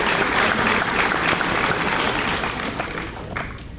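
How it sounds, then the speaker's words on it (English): Steady, full applause from a crowd at a high school senior awards ceremony celebrating scholarships, a continuous wash of many hands clapping that tapers slightly toward the end. "Definitely deserves a round of applause."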